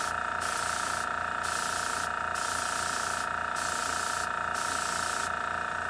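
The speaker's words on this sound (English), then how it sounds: "we're going to flip it over and we're just going to spray like that at an angle" Paint spraying at an angle onto a model vehicle panel for panel modulation: a steady, continuous airbrush hiss running unbroken throughout, close and even, with short rhythmic pulses in the upper hiss.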